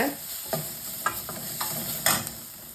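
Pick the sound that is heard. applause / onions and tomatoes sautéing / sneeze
onions and tomatoes sautéing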